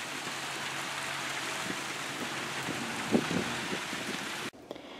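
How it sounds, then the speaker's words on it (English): Heavy rain pouring outside, a dense, continuous hiss of drops on surfaces, loud and steady, with a brief low rumble in the middle before it cuts off abruptly near the end. "it is pouring right now"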